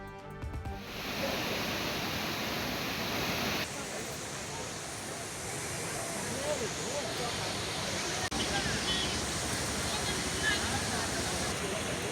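Heavy, continuous roar of floodwater pouring down the Courtallam waterfalls after days of nonstop rain in the Western Ghats, a dense, steady broadband rush that fills the whole stretch without pause.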